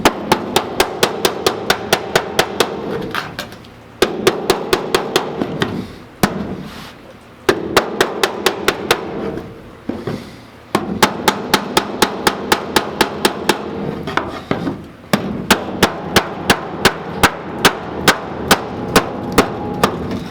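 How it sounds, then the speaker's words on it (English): Sharp metallic hammer blows ring out in rapid, steady bursts, loud and close, with brief pauses between runs of strikes on double-thickness sheet metal at the running board mount of a 1939 Ford. "you have to hammer a little harder on this because it's double metal"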